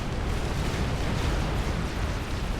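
Massed Lobo and Seraphim T1 artillery pounding a base in the Supreme Commander strategy game, a steady wash of overlapping bursts and booms with no pause, moderately loud throughout.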